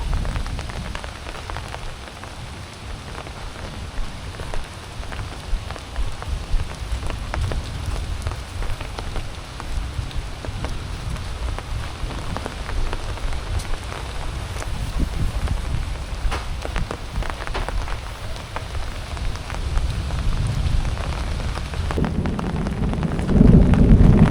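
Heavy spring rain patters densely on surfaces in a constant close hiss, with light wind buffeting and a louder rush of downpour toward the end.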